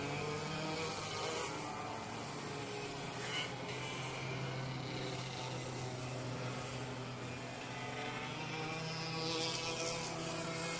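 Racing karts drive a wet track in the rain, their small engines droning steadily at a distance with rising and falling whines as they pass, the buzz continuous and layered throughout.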